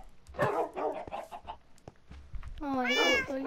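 A cat gives one clear, drawn-out meow near the end, following quieter rustling and soft scattered sounds close by.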